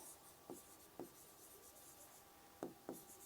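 Short, scratchy strokes of writing on a board during a chemistry class, about four quiet marks in two pairs, close and faint against a near-silent room, with no talking.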